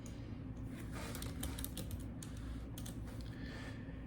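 Quick keystrokes on a computer keyboard, a short burst of several clicky taps entering a stock symbol, close and fairly faint over steady room noise.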